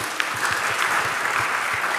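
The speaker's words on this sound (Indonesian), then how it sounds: "Beri tepuk tangan yang meriah." Church congregation applauding during a sermon, a dense, steady wash of many hands with a few sharper claps and low thumps underneath, filling the whole stretch without speech.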